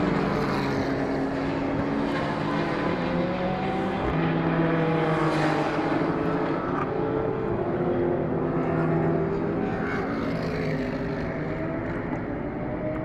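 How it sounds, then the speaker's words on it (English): A Ford Mustang race car with a 358 cubic inch NASCAR engine, running in an endurance series round at Ruapuna, Christchurch, roars steadily throughout, a dense sustained engine drone with shifting pitch bands from the circuit. "the 666 Grant Sylvester Dean Perkins MRX Ford Mustang with the 358 cubic inch NASCAR engine in it."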